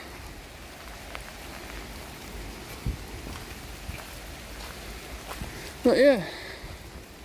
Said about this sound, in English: I've got natural coverage from this rain